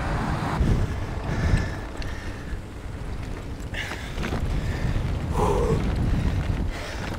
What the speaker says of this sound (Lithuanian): Vėjukas glosto kaktą